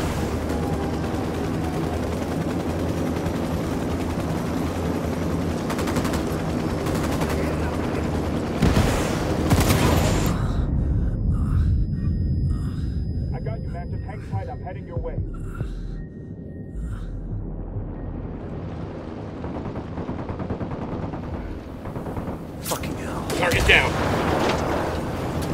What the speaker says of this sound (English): Fucking Apache's about to fire.